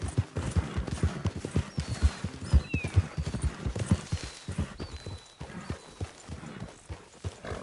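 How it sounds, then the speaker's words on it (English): Steady clip-clop of horse hooves trotting close by in the video game Red Dead Redemption 2, with a brief whinny and faint chirps in the background. "Get that horse out of here."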